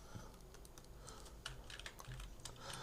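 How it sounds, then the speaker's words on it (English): Fingers type on a computer keyboard, a quiet, rapid, uneven run of key clicks close by with no talk over them. "I will just type it from the beginning."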